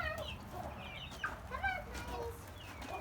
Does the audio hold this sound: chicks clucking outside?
yes